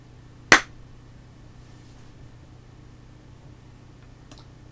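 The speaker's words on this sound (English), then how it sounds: "Let's do that clap test again." A single sharp hand clap rings out close and loud near the start, followed by quiet room hum and a faint click later on.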